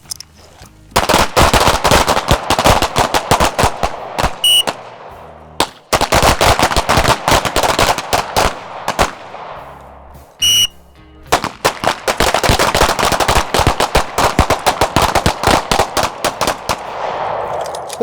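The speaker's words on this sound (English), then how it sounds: "This time you can fire 4 to 6 rounds per iteration." Rapid gunfire on an outdoor firing range as shooters fire strings of four to six rounds each, loud close cracks in dense bursts separated by two short pauses, with no talking.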